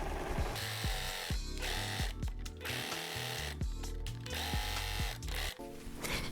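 Sewing machine stitching a faux leather bag lining, a fast rhythmic mechanical clatter running almost continuously, with short pauses and changes in speed, close and fairly loud.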